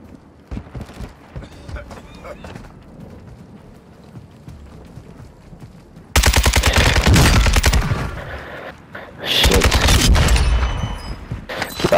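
Rapid bursts of gunfire in a battle royale shooter, first a low muffled rumble of game noise, then two loud sustained volleys of quick repeated shots close by, with people talking faintly in between.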